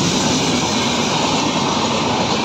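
A train racing at full speed between Nasrala and Jalandhar Cantonment in Punjab gives a loud, close, continuous rumble and rush of wheels on rails, steady throughout with no voices.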